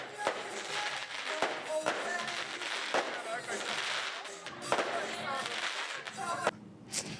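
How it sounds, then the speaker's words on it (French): Fireworks crackle and pop through a Chinese New Year celebration outside the Dragon d'Or restaurant, a dense stream of sharp bangs and thuds with crowd voices underneath and a brief high whistle near the end. "les invités ont eu droit à un spectacle de feux d'artifice."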